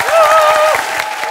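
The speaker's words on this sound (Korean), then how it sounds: "자, 박수 한번 더 드리겠습니다." Studio audience applause at a Korean comedy show, a brief burst of clapping mixed with a sustained tonal musical sting or sound effect over it.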